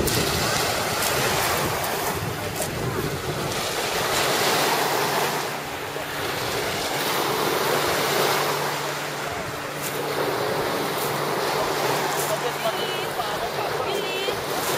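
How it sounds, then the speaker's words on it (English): Waves wash continuously against the shore of Lake Erie under strong wind noise buffeting the microphone, with surf swelling and easing in slow surges. "This is the shore of Lake Erie."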